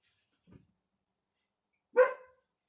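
A dog outdoors gives a single short, clear bark after a faint low thump, with quiet surroundings in a cold outdoor setting.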